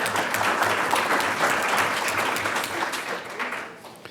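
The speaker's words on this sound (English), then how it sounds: "Let's give them a round of applause for helping to sponsor today's event." An audience at a user conference applauds the event's sponsors, a steady burst of many hands clapping in a room that tapers off over a few seconds.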